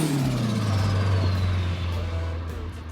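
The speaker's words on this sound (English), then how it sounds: "That is what I call a turbocharger" A modified, heavily boosted Volvo 940 Turbo with a large turbocharger revs loudly up close, its engine note sweeping down steadily as the revs fall and the sound fades slightly.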